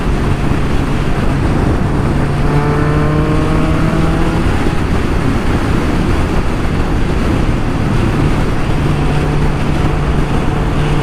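A 1994 Kawasaki Ninja ZX11 (ZZR 1100) motorcycle cruises in sixth gear, its engine a loud, steady, close-up drone with heavy wind rush and a slight rise in pitch midway, no voices.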